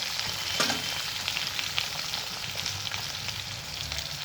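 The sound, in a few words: potatoes frying with black cumin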